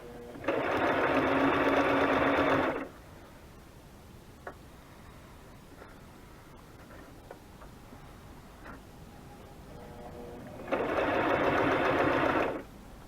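A sewing machine stitching fabric embellishments for a butterfly journal runs in two loud bursts, one at the start and one near the end, with quiet ticks and small handling noises between them.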